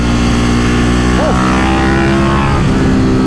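A Ducati Monster 937 motorcycle is ridden with its engine running loud and steady throughout, a constant droning roar with one brief rise in pitch near the middle, heard close up with no talking.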